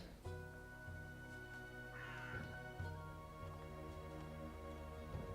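A crow caws in the video game Dreamfall Chapters. A single faint, hoarse call rises over a steady droning game soundscape with low humming tones.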